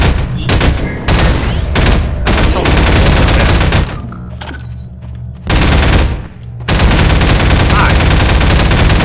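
Sustained heavy automatic gunfire in the Garry's Mod video game, loud and close, broken by a few short pauses before bursts resume.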